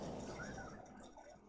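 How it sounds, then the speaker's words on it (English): Water draining away in the video game Metroid Prime, a continuous soft liquid wash and trickle that is steady at first and then thins out slightly, with no voices. "the water is going somewhere, so it's getting drained out fast"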